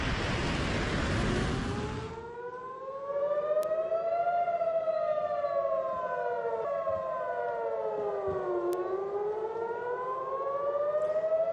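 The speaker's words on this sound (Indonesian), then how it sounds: "Bunyi sirene pun menggema di kota Tel Aviv" After a brief burst of broad noise, a loud air raid siren wails on in Tel Aviv, its pitch slowly rising and falling in long sweeps.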